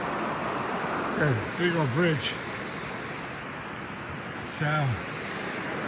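Laurel Forks stream rushes by in a steady broadband wash of flowing water near a big bridge, with someone talking briefly over it.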